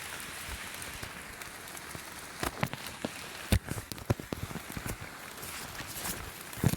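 Irregular taps and patters, like raindrops striking a hard surface nearby, scattered unevenly over a soft steady background hiss.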